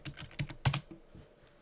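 Quick keystrokes clatter on a computer keyboard, a short irregular burst of close taps that trails off into quiet, with no voice.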